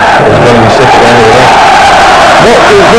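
A football crowd roars at Highbury on a match day against Portsmouth, making a loud, dense wall of shouting and cheering close by, with voices rising above the din.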